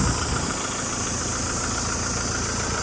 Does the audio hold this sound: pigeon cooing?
no